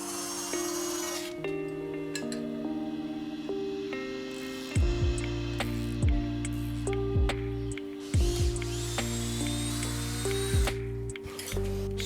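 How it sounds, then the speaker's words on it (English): A power drill whirs in repeated bursts, its pitch dropping as it bores pilot holes into wood for an anvil stand, with short pauses between holes. "I'm going to drill some pilot holes, that way I don't split the wood"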